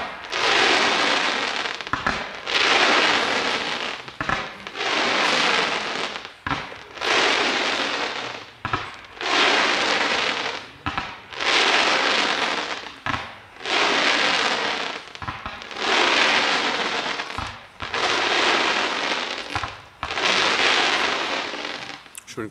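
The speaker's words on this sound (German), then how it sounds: "30 mm, 10 Schuss als Dreierfächer geschossen" 30 mm firework shells fire as a three-way fan in a steady series of ten loud, roaring bursts, each a second or so long, separated by brief gaps.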